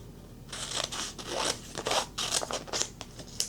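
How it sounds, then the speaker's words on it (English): Scissors trim transfer tape for Cricut vinyl in a quick run of close, crisp snips and rustles, about nine or ten cuts in an uneven rhythm, quiet overall. "I'm going to trim this down just a little"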